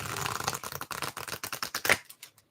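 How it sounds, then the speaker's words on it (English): Quick papery flutter of tarot cards being shuffled, a rapid run of crisp clicks that speeds up and ends in a brief final riffle. "I can shuffle them like this."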